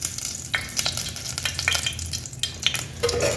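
Whole spices such as cinnamon, cloves and cardamom fry in oil with ghee, a close crackling sizzle broken by frequent sharp pops and spoon scrapes.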